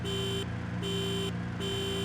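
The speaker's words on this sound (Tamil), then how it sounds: "ஹார்ன்" A car horn in a racing video game, played on a sim racing steering wheel, honks three times in a steady on-off pattern, each blast a flat electronic tone over a constant engine-like hum.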